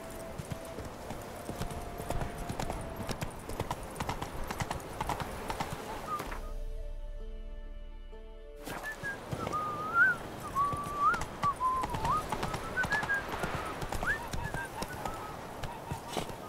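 Horse hooves clip-clopping steadily while riding in The Witcher game, under occasional talk and background music, with a short quieter break in the middle.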